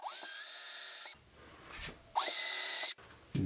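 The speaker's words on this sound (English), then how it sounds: "So I'm going to pre-drill those studs." A power drill whines at high speed in two bursts, pre-drilling into bathroom wall studs, spinning up, running about a second each, then stopping, with quieter handling noise between.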